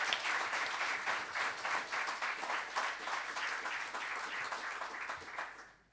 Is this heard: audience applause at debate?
yes